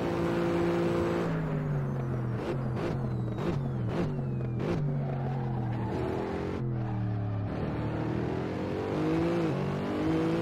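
Mercedes SLS GT3 race car engine lapping Monza in Assetto Corsa, a loud continuous roar that climbs through the gears, drops in quick downshift blips under braking, then pulls hard again.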